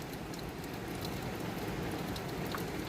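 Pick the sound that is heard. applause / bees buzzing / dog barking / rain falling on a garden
rain falling on a garden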